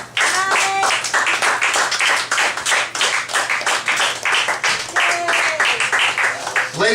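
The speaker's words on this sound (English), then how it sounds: "Ladies and gentlemen, Father O'Brien, give him a round of applause." An audience gives a round of applause for Father O'Brien, with sustained, fairly loud clapping and scattered voices calling out over it from start to finish.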